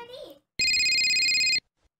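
A telephone rings once in a burst inside the Roblox horror game The Exit, loud, steady and bright, lasting about a second after a voice speaks briefly.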